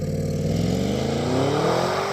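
Audi S8 launching hard from a standstill, engine roaring as it climbs steadily in pitch through one continuous pull, loud and close, with no talking.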